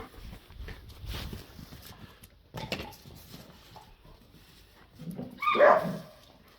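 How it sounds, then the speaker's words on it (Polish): A dog barks and yips sharply at a younger dog to put it in its place, with growly bursts and a loud close flurry near the end, a voice murmuring faintly in the background. "Nie ma tu agresji, jest tylko reprymenda ze strony psa stojącego wyżej w hierarchii"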